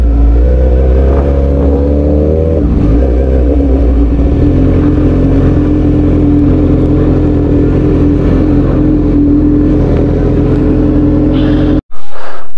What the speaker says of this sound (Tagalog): So ito, so far so good naman yung takbo ng ating motor.